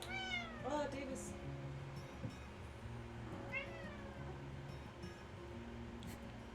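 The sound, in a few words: kitten meowing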